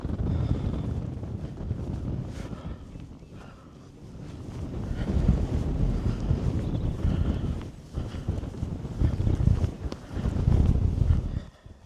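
Strong, warm wind gusts and buffets a microphone outdoors on a countryside walking trail in Kent, a steady roaring rush that swells and eases in waves without pause for the whole stretch.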